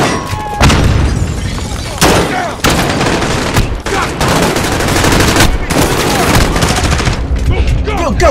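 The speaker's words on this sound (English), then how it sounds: "Just like a random bomb just went off." An explosion rips through a Call of Duty Modern Warfare (2019) firefight, with loud, dense bursts of gunfire and heavy booms crowding the mix and players shouting over the din.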